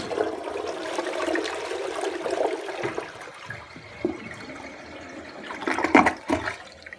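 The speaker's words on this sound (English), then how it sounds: "this one I can flush, so here we go" A Universal Rundle Athens elongated toilet flushes nearby, a strong rushing swirl of water that fades into gurgles and trickling refill with a couple of late splashing bursts.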